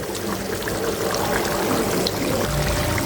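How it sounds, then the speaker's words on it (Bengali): Lime juice pours onto a roasting poultry chicken as a steady, close, watery wash of sound that runs unbroken with no voices. "এখন দিয়ে দেব একটু লেবুর রস"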